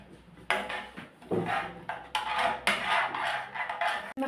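Crushed garlic fries in reused frying oil in a pan as a sauce is started. A utensil scrapes and clinks against the pan in repeated stirring strokes, with bursts of sizzle at close range and no voices.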